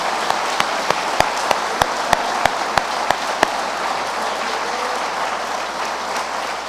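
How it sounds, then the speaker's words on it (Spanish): A church congregation applauds, a loud continuous roar of clapping with a single clear, evenly spaced sharp clap standing out near the front during the first half. "Denle un aplauso al Señor, por favor, con todo su corazón."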